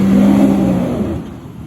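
A Nissan Patrol 4WD with front and rear lockers revs its engine while climbing the rocky Toolangi track, a loud, close, steady drone that fades slightly as the brief burst ends.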